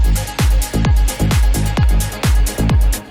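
An atmospheric synth pad from an Arturia Mini V sustains quietly beneath a loud, steady electronic kick beat in a track's outro.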